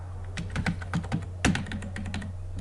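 Close computer keyboard typing while text is entered in MS Word, irregular bursts of light clicking keystrokes with a slightly louder cluster midway and no speech.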